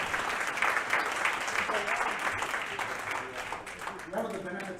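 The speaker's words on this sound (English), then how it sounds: "Let's give him another round of applause." Audience applause at a benefit concert for Ukrainian orphans, a steady wash of many hands clapping together at moderate volume, with some voices and a bit of talk surfacing toward the end.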